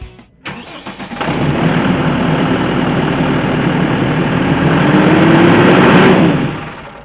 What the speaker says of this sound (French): Il s'agit en fait du moteur Fiat Powertrain qui équipe le tracteur T5 115 de New Holland